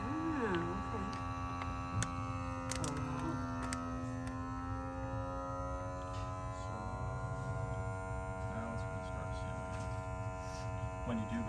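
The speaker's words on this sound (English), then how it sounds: "you just push the vacuum seal, and it vacuums" A Nesco vacuum sealer pulls air from a food bag with a steady motor hum and whine that shifts in pitch as the bag tightens, a constant drone throughout.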